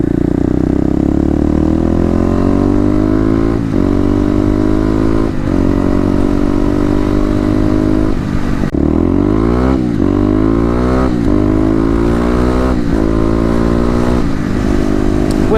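A Kawasaki KLX250 motorcycle accelerates hard, its loud engine rising in pitch through several gears with repeated shift breaks and fresh climbs, close and continuous throughout.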